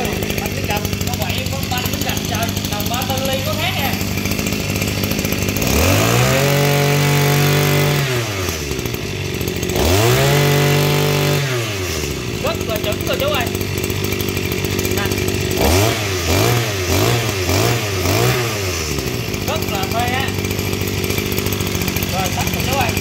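A used Japanese lawn mower's small engine runs at a steady idle, then revs up hard twice and sputters through a series of quick throttle blips, loud and close, with people talking over it.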